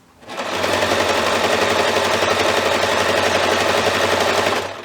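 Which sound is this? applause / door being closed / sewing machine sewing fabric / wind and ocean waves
sewing machine sewing fabric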